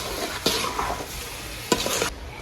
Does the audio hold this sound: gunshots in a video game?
no